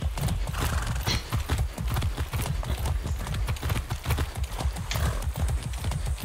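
Horse in the Far Cry 6 video game, with steady clip-clop hooves throughout and whinnies mixed in, loud and close, with no talk over it.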